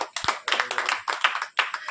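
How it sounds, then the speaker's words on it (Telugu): Listeners at a prayer sermon clap their hands in short, uneven bursts for a couple of seconds, close and moderately loud. "ఒకసారి చప్పట్లు కొట్టండి."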